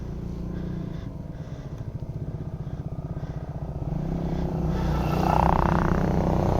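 A CF Moto 300SR motorcycle engine rumbles steadily on a mountain road trip near Bandarban, its note swelling louder in the last seconds as the revs rise, with faint voices behind.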